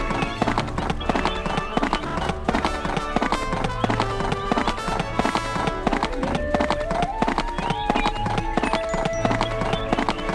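Steady rhythmic clip-clop of horse hooves from riding in the Barbie Riding Club video game, a continuous trotting beat running under background music throughout.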